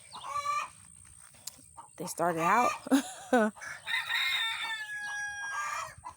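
Backyard hens cackle and cluck after laying an egg, with several loud, close bursts of squawking calls overlapping like a chorus, and a person speaks briefly between them.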